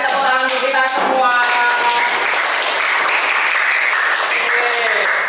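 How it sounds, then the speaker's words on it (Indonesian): Students in a classroom burst into loud, dense applause, with voices calling out over the clapping at first before it settles into a sustained roar of hands. "Kasih tepuk tangan untuk kita semua."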